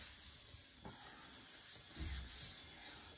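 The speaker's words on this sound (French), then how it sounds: "le bruit, ne vous inquiétez pas, c'est le robot aspirateur." Robot vacuum cleaner running in a bedroom, a steady broadband whirring hiss with faint brushing rubs and a slightly louder swell near the end, continuous and fairly close.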